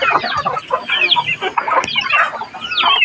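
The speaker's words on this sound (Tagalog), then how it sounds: "Tandang yata yan eh, tandang" Rooster clucking repeatedly among other chickens on a provincial farm in the Philippines, busy overlapping calls at close range with no talk.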